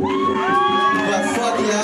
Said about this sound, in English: I want everyone to give a big round of applause to James right now